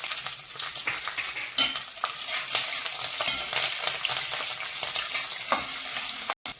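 Peanuts and green chilies fry in hot oil for rava upma, a steady close sizzle broken by scraping stir strokes and a few sharp clinks, with a brief dropout near the end.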